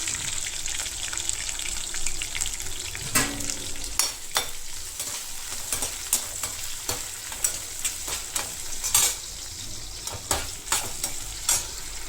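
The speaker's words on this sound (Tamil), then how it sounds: "இதை போட்டு நம்ம ஒரு சிட்டிகை உப்பு போட்டு பச்சை வாசனை போகிற வரைக்கும் நம்ம வதக்கணும்." Chopped ginger, garlic and green chilies with a pinch of salt sauté in a pan for a paneer masala. A steady sizzle runs throughout, with repeated close scraping clicks from the spatula stirring.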